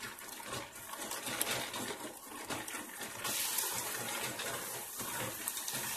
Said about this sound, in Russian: Дальше добавляем воду.